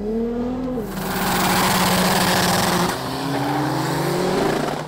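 A rally car engine racing past at a motorsport event, its note rising as it closes in and sweeping loudly by, then fading off before another engine climbs in pitch, with no talk.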